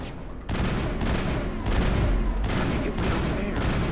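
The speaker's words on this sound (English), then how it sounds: "who is shooting me?" Dense, continuous gunfire in the Mass Effect video game, sustained bursts of rapid shots running throughout with a few sharper volleys standing out, loud and close.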